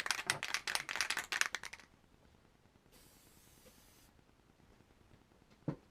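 Spray glue hisses from an aerosol can in a short steady burst after some rattling and handling noises at a sewing workspace, fairly quiet and close.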